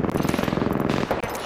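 Rapid automatic gunfire in Apex Legends, a dense unbroken burst of shots rattling for the whole second and a half, loud and close with no talk over it.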